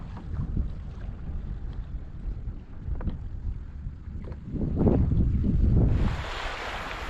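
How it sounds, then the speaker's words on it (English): Wind buffets the microphone while small waves lap against a kayak on the Susquehanna River, a low rushing and splashing that swells louder midway, with no voices. "Breeze, waves, could put me to sleep."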